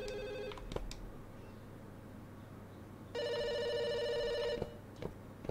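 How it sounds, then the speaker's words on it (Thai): A telephone ringing in the Chinese horror video game Firework, with two separate bursts of rapid electronic trilling and a quiet pause between them over a low ambient hum. "โทรศัพท์ครับ"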